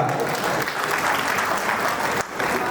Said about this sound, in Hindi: ये तालियां हौसला बढ़ाती है हमारा।